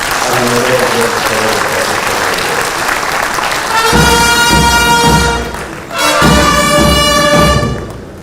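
Sustained audience applause at a capacity-building workshop for judges and justices, loud and steady, with a sustained tonal, horn-like sound joining about halfway through and a brief dip before the clapping swells again.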